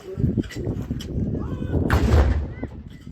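Artillery guns firing at the D-Day 80 commemorations in Portsmouth, with a few sharp booms over a couple of seconds and a loud blast near the middle, with voices calling out between the shots.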